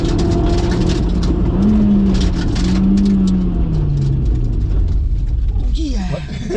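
A Honda Civic Type R EK9 takes a corner, its engine droning steadily from inside the cabin with rising and falling pitch as it pulls through the bend, while people talk over it.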